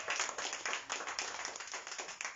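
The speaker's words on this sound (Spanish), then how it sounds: "Denle un aplauso al Señor." A church congregation claps together during a sermon, a brisk burst of many hands in quick, uneven rhythm, fairly close and steady before it fades at the end.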